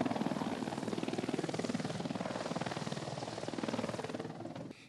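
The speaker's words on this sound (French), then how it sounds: "Nous prenons place à bord de l'hélicoptère." Helicopter rotor and turbine running steadily and loud throughout as paratroopers take their seats aboard before a parachute jump, a continuous rhythmic thudding with a slight drop at the very end.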